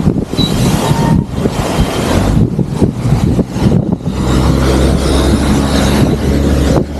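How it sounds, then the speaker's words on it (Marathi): A red MSRTC state transport bus passes close by, its loud engine drone and low rumble filling the scene continuously, rising as it goes past on a road near a waterfall spot. "अरे वा आपली लालपरी आले"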